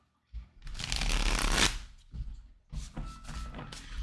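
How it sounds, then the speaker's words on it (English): Matte-finish playing cards being shuffled: a long, dense riffling rush for about a second and a half, then two shorter bursts of card handling, fairly close. "These cards are such a pain to shuffle sometimes."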